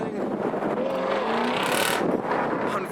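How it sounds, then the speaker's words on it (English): A Nissan R32 pulls away from a busy Japanese car festival, its engine revving and passing close by amid crowd noise and faint talk. "there's an R32 leaving"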